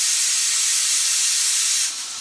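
Pressure cooker releasing a loud, steady rush of hissing steam while cooking urad dal, continuous and close, easing slightly near the end with no voices.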